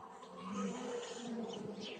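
Honeybees buzz steadily at an open hive of a medium-strength colony started from last year's caught swarm, a dense low hum close by with no talk.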